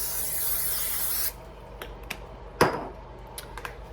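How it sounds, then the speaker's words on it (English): Cooking spray hisses steadily into a casserole dish for about a second, then stops, followed by a few light clicks and a louder clatter of the can or dish being handled. "So I'm going to be spraying the casserole dish"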